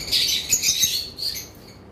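A pair of yellow-sided conures give sharp, high chirping calls in quick bursts, loud and close, for a couple of seconds.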